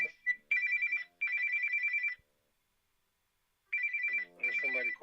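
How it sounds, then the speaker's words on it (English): An incoming call rings on a mobile phone in loud repeated electronic ringtone bursts, pausing for about a second and a half before resuming, with a voice briefly heard near the end. "There's somebody calling my phone."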